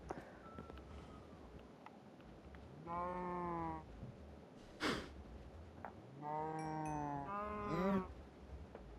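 Sheep in the Minecraft video game bleat in clear, separate calls, several wavering baas spaced across a quiet background with a brief sharp noise in between.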